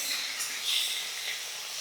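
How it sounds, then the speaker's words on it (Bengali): Hilsa fish frying in hot oil gives a steady, soft sizzling hiss that runs evenly the whole time at low volume, with no talking. "ঠিক এমনিভাবে মাছটাকে ভাজবো।"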